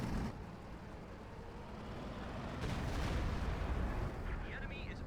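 Artillery barrage rumbling through a Company of Heroes 2 match between Wehrmacht and US Forces, a dense, continuous low roar of shelling and blasts that swells in the middle, with voices talking over it.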